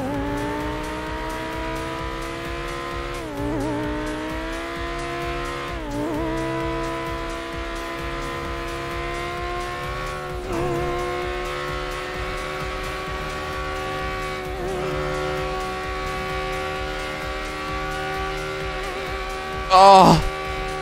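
An updated Audi's engine drones loudly while driving, its pitch climbing and dropping through several gear changes, with a short burst of revving near the end.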